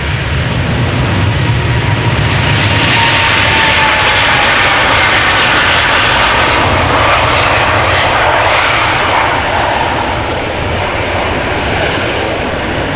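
A jet airliner departs Amsterdam Schiphol Airport, a loud, close, continuous engine roar that holds steady for the whole stretch, with no voices.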